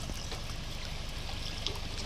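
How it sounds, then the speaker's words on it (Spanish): Spring water at a natural pool flows in a steady, soft trickling stream, faint and continuous with no one speaking. "El ojo de agua."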